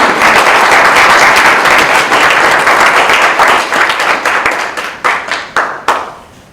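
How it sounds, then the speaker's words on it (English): Loud, close applause from attendees at a legal education event, a dense burst of clapping that fades into a handful of separate claps at the end. "let's give Ben a round of applause"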